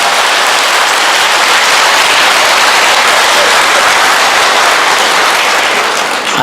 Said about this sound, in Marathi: जोरात जोरात जोरात जोरात जोरात जोरात टाळ्या वाजवायच्या